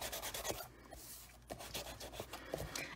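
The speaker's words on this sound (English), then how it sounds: "now I'm going to burnish it again" A vellum overlay is burnished onto an adhesive sheet in quick, quiet, scratchy rubbing strokes, close up and repeating in an uneven rhythm.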